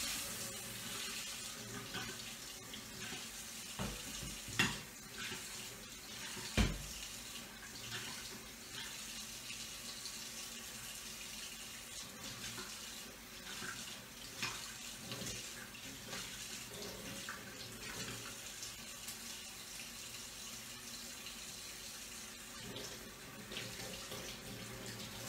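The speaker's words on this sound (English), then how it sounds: "I'm going to try to run this under cold water." Steady cold tap water runs over a glass bottle at a sink, a continuous faint splashing stream with a few small knocks of glass against the basin.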